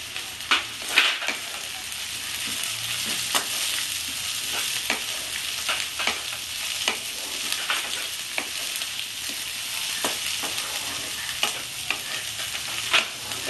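Onions and green chilli frying in a pan for a Bengali bata fish curry: a steady close sizzle with irregular scraping stirs and light clicks of a spatula against the pan, no voices.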